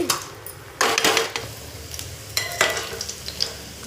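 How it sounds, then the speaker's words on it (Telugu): Gulab jamun frying in hot oil produce a continuous bubbling hiss with sharper sizzling bursts as they are added and moved, plus a few faint utensil clinks close by. "అంతలోనే ఆయిల్ వేడైందండి ఇందులో మనం చేసుకొని పెట్టుకున్న గులాబ్ జాములను వేసి వేయించుకుందామండి"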